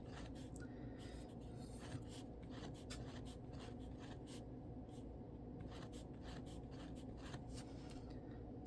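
A pen scratches steadily across paper, drawing a series of small circles in quick, repeated rubbing strokes, close and quiet with no talking.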